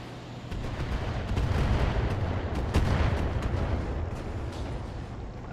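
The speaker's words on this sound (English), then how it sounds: "We got a thumper artillery piece there." A thumper artillery piece firing in the mech game BattleTech, a sustained rumbling barrage of heavy booms rolling continuously with sharp cracks layered over the low roar.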